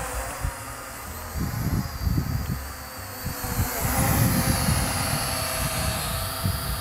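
A small drone flies outdoors in high wind, giving a steady high buzzing whine with low wind gusts rumbling and buffeting through it. The buzz stays fairly close and rises and falls as the gusts hit.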